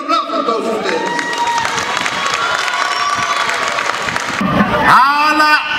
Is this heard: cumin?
no